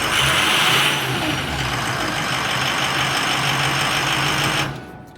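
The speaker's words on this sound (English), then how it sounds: "And this is a cold start." A Ford 6.7 diesel truck engine runs steadily just after a cold start, a close, loud, even rumble with no change in pace, then cuts away abruptly near the end.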